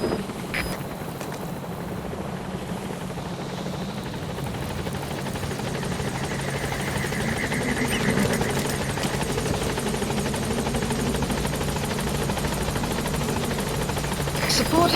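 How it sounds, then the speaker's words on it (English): Helicopter Pequod from Metal Gear Solid 5: The Phantom Pain approaching, a steady, fairly loud rotor drone and engine hum that holds and swells slightly toward the end, with game voices speaking over it. "This is helicopter Pequod."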